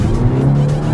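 A Seat León FR engine holds a steady, loud low hum close by, with a faint rising tone.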